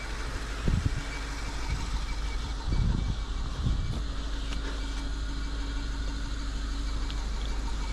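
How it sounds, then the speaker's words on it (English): A BMW 750Li engine running steadily at idle with a low, even rumble and a few brief louder bumps near the start, any squeak faint within the drone. "after a couple minutes of running, it started to make this squeaking noise"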